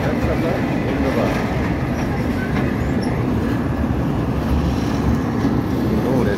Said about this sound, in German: So, der ist ja doch länger als ich dachte, der Zug.